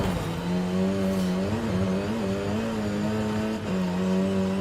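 A 2009 Corvette ZR1 engine idles roughly and revs up and down, its deep throaty exhaust steady and close, with no voices.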